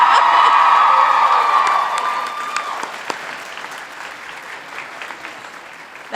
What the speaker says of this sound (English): I heard you cheer louder than that.